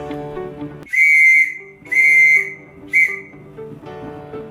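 A high, pure beeping tone spells the letter G in Morse code: two long beeps and then one short one, evenly spaced, loud and near against a low background murmur.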